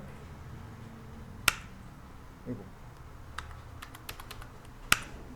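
Keys clicking on a computer keyboard while drawing lines in SketchUp, with a few sharp isolated taps including a firm Enter press, spaced out over quiet room tone.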